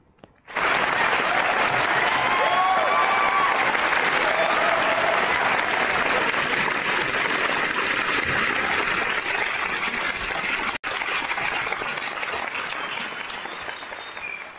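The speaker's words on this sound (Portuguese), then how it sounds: "Metem aplausos, boi, metem aplausos." Loud, continuous applause fills a podcast studio, starting abruptly and holding steady for about fourteen seconds with a brief dip near the end.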